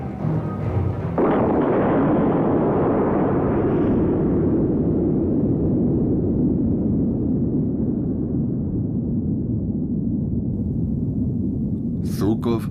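A Soviet atomic bomb test explosion detonated high above the area south of the Ural Mountains, heard as a sudden loud blast that swells into a long, sustained roaring rumble and slowly fades.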